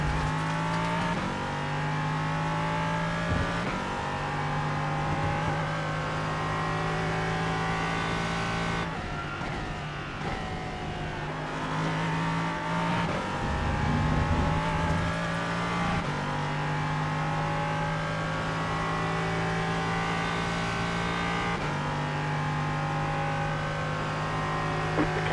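Ligier JS P320 LMP3 prototype race car in the iRacing simulator at Road America, engine droning loudly and steadily near at hand, with revs rising and falling through gear shifts and a rougher burst midway, no talk.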